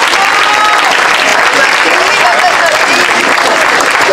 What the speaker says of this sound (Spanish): Yo quiero pedir un fuerte aplauso